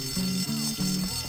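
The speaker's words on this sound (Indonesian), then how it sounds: "ini tarik alarm ini nih" Fire alarm pulled in the video game Bully: a low, steady buzzing tone sounds in three short bursts with brief gaps between them, fairly loud over faint game ambience.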